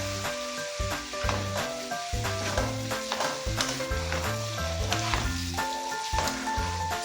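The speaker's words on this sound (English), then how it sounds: "And then I'll stir fry this." Sweet corn and other ingredients for Nigerian fried rice with chicken are stir-fried in a pan, giving a steady sizzle with scraping stirs, under rhythmic background music.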